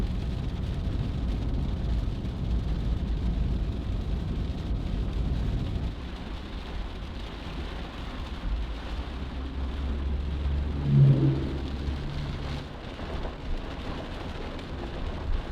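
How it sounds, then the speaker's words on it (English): Steady heavy rain hisses throughout, with a low rumble of thunder rolling in partway through, in Clay Center, Nebraska; no voices. "they are getting hammered with rain"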